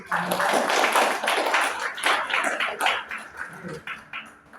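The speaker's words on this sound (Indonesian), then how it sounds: "Oke, kita beri tepuk tangan dulu." Applause from a student audience at an office occupational-safety presentation, a dense burst of clapping that starts loud and tapers off over a few seconds.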